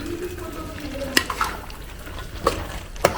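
Freshly chopped coconut being stirred and roasted in a pan, soft sizzling and scraping with a few sharp clinks of the spoon against the pan, a voice talking faintly underneath.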